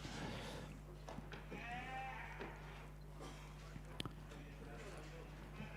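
Sheep bleat from holding pens at a shearing championship in Ireland, several calls rising over a steady crowd murmur and hall hum while a voice talks over a public address.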